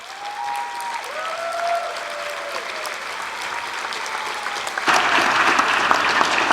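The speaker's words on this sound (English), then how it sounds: "So will you give them a round of applause for their support?" Applause from an audience at an award ceremony on a conference stage, a dense, sustained clapping that swells louder partway through, with a faint whistle-like tone early on.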